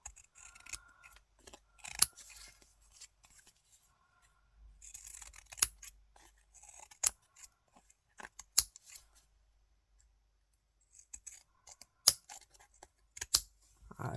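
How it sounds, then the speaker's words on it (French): Scissors snipping paper for an art collage, giving scattered sharp clicks and short cutting bursts with quiet gaps between them, close and fairly soft with no talking. "Mon ciseau, il est là."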